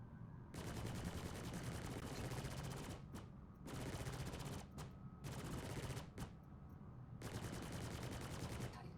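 CF Panther repeater cannons on a ship in Star Citizen fire in long, dense automatic bursts separated by short gaps, steady and loud with no talking.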